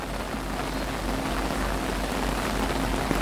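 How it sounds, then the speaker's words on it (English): Light rain falls steadily outdoors at a Walt Disney World resort area, a soft, even hiss of drops on surfaces continuing without a break and without speech. "it's just a little bit of rain"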